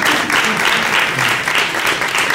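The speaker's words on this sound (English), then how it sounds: "So give yourselves another round of applause." An audience applauds, dense continuous clapping at an even level for a couple of seconds.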